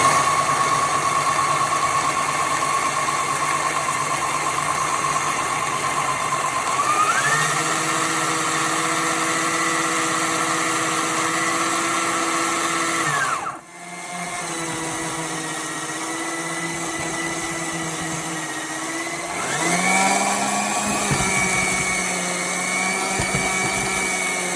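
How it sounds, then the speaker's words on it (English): An electric blender grinds oats into a rough flour for oatcakes with a loud, steady whine. It stops briefly about halfway through, then starts again, and its pitch shifts as the oats break down. "We're then going to put it into a blender"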